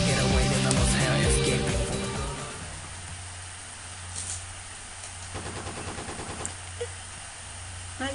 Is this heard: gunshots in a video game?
yes